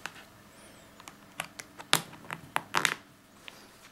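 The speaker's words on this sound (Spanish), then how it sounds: "Una vez que hemos escuchado los clics correspondientes, vamos a cerrarlo" Oppo Find 5 smartphone being pressed into a leather-style case, a series of sharp, close plastic clicks and snaps in irregular bursts, with no talking.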